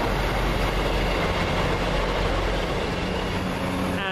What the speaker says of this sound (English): It's now arriving is the 12:43 service from Matlock to Nottingham, East Midlands